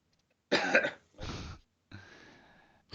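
A man gives three harsh coughs in quick succession, close and loud in an otherwise quiet space.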